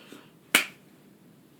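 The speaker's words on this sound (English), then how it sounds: "but I'll just clap." One person gives a single sharp clap, a crisp close snap standing alone against quiet room tone.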